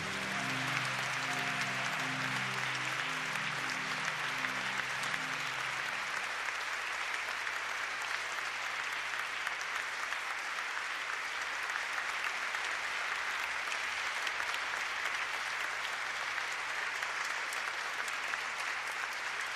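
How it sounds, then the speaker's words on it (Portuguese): A church congregation applauding in praise during a worship service, dense continuous clapping held at an even level throughout, with a sustained musical tone underneath early on and no voices standing out. "Vamos aplaudir o nosso Deus."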